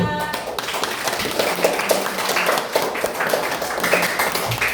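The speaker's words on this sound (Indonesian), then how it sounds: "ayo tepuk tangan untuk kita semua" A group of people clapping their hands together in a classroom-style session, a dense, steady patter of claps that continues for several seconds with a voice faintly in the mix.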